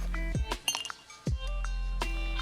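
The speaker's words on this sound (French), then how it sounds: "Tu veux trinquer? Allez, passe-moi un glaçon." Ice cubes dropping and clinking into a glass for a toast outdoors by a Kamado Monolith Classic barbecue, a few bright, sharp ringing clinks with clatter between them, close and loud.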